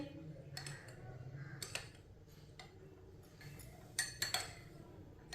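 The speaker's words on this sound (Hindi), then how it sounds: "कस्टर्ड को मैंने चम्मच चलाते हुए मिक्स कर लिया है।" A spoon clinks and taps irregularly against a bowl while stirring yellow custard powder into half a cup of milk, with close, light metallic ticks amid faint background noise.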